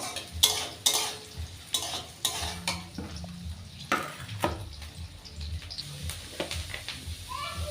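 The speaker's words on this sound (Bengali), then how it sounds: "এবার প্রথমে আমি বিনসগুলো ভাজবো" Beans frying in a pan in a home kitchen, with a soft sizzle under irregular stirring scrapes and the clatter of a utensil against the pan, heard close and fairly quiet.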